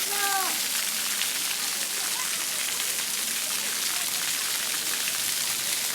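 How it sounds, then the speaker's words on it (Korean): Flowing water in a rose garden, a steady broadband rush like a fountain or stream running continuously throughout, with a brief voice at the start. "물소리가 시원하게 들리는 이곳은 장미원입니다"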